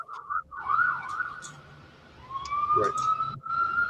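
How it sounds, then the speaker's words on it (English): A wailing siren rises and falls steadily in the distance outside, its tone sweeping up and down, with a voice speaking briefly over it. "I know we got a siren going on."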